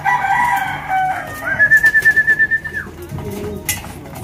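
A racing pigeon coos nearby in a rapid run of soft, throaty pulses, with other bird sounds around it.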